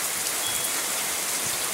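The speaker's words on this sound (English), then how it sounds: "Just a little rain." Light rain falls steadily during an incoming hailstorm where horses stand outside, an even close hiss of drops on surfaces with no other sounds standing out.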